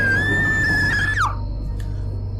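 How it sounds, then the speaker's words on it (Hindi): A woman screams loudly in a horror-story sound effect, one long sustained shriek that bends sharply downward and cuts off, leaving a low hum and a faint echo behind. "वो बहुत जोर से चिल्लाई।"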